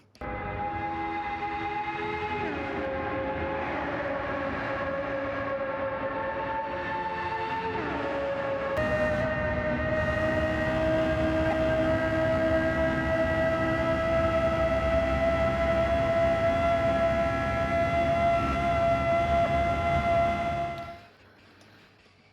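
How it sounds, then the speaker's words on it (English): A high-revving V10 racing engine in Gran Turismo 7 screams loudly and steadily, echoing inside a tunnel, its pitch shifting with gear changes before cutting off. "just how gorgeous is this screaming sound coming from the V10?"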